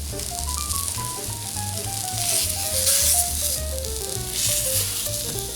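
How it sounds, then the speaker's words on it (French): Halloumi cheese fries in a pan with a steady, loud sizzle that swells and fades slightly, while a melodic tune plays over it and low thumps run underneath. "On va mettre notre fromage à cuire tout simplement dans la poêle."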